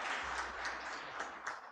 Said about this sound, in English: So I will request you all to clap in his favor.